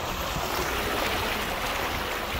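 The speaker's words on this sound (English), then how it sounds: "a pretty decently easy river crossing" A camping rig drives across a calm river over concrete and rocks, producing a steady loud rush of churning, splashing water that fills the whole moment with no talk.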